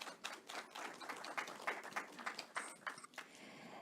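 An audience at a Korean AI conference stage event gives a brief round of applause, with scattered, fairly soft claps heard at a distance for a few seconds and no voices.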